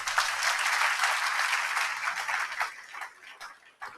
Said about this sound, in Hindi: इसलिए अंग्रेजों के लिए एक बार ताली बजाओ